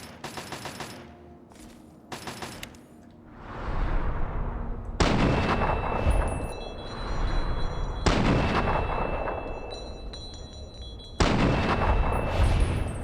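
Missile launches and heavy gunfire in the video game Fallout 3, with repeated loud blasts and booming explosions that each roll off into a long rumbling tail.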